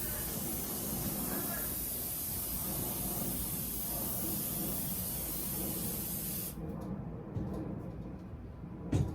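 An aerosol can sprays oil onto the air filter of a Jeep Wrangler in a steady, close hiss that runs for about six seconds. It then cuts off and leaves a few faint handling sounds.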